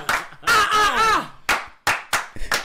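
Several sharp hand claps in an irregular burst, close and loud, following a stretch of excited shouting and whooping voices during a livestream drinking dare.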